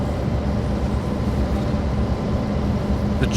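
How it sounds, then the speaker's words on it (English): A train in Train Sim World 2 slowing down, heard as a steady, dense rolling rumble that stays loud and constant for the whole stretch, with a faint brief click near the end. "I'm not doing a thing and the train is slowing down"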